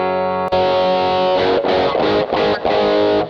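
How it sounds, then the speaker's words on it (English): Electric guitar played through an MXR Rockman X100 in edge mode, its lower-gain distortion: one sustained chord after a sharp pick attack, then several rhythmic strummed chords, loud and close with no talking. "edge mode is the first of our two distortion circuits"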